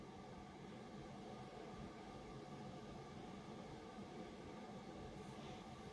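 Model railway coaches, Accurascale Mk2B, shunting around a layout, giving a steady, close rumble of small wheels rolling over track with faint clicks and no pauses.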